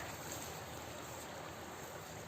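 Cold water flows at a shore in Germany as a faint, steady rushing wash with no voices over it for the short stretch.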